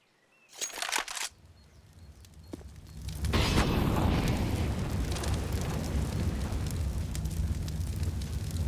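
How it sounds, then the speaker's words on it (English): A flashbang grenade thrown in a Counter-Strike match on the Inferno map, with brief sharp clatter and a pop early on, then a loud sustained roaring burst that holds steady to the end. "Flashbang over the top."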